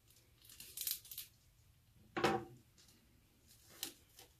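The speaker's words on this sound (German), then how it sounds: "Ich mache die Folie mal drum weg." Plastic shrink wrap torn and peeled off a newly unboxed CD, heard as a few scattered crinkling rips with one sharper tearing burst midway, close and fairly quiet with no talking.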